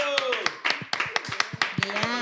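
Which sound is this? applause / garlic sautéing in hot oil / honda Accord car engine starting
applause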